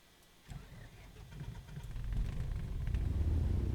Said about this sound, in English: Prop clear, starting up.